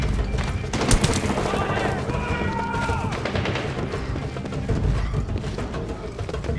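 Gunfire in the military shooter Medal of Honor Warfighter, a steady rattle of automatic shots and impacts running throughout, layered with game ambience and voices.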